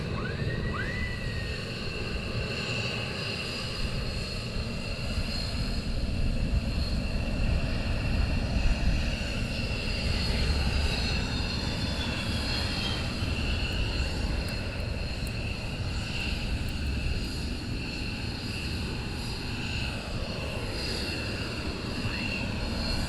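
Military jet aircraft at RAF Lakenheath, heard from outside the base, giving a continuous loud engine roar with whining tones that swell and fade slightly as the aircraft start up and taxi toward departure.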